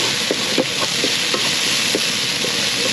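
Fish larb for a southern Lao village recipe cooks in a pot over heat, giving a steady bubbling sizzle with occasional soft stirring knocks throughout, close and fairly loud, with no voices.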